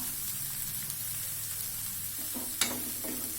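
Green peas sundal sizzles softly in a pan with coconut nearby, the pan shaken and tossed so a few brief scraping rattles rise over the steady low frying hiss.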